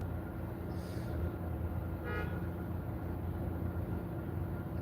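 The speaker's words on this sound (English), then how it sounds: "Somebody's honking at somebody." A car horn toots a few times at night in a back alley in the city, one short blast and then another a moment later, set against a steady hum of traffic.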